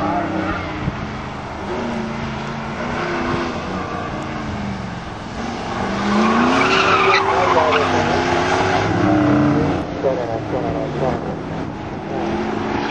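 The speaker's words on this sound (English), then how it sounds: "we got Manny back out on fourth and it's going to a Firebird" A Pontiac Firebird drives an autocross course, its engine note rising and falling and its tires squealing and skidding through turns, heard from a distance with people talking over it.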